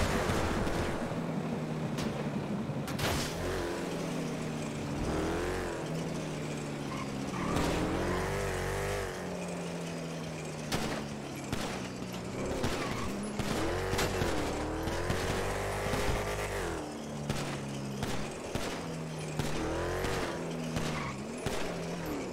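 A car driven hard in the FiveM video game, its engine continuously revving up and down with repeated shifts and possible tire squeals, loud and constant throughout.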